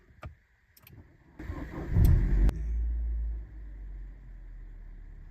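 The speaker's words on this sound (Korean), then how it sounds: "이렇게 엔진 속도가 느리게 시동이 걸리면 배터리 힘이 떨어진 겁니다" A Renault Korea car engine cranks sluggishly on a weak battery for a moment, then catches and rumbles into a low idle that fades down; nearby, no speech.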